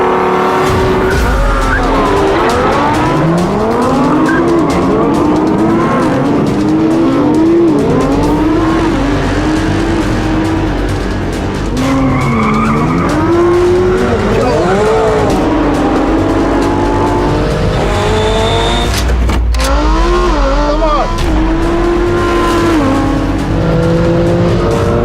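Drag race cars launch and accelerate together with tire squeal and skidding, a loud, continuous roar of rising engine notes under a crowd-like background, with a sharp burst near the end.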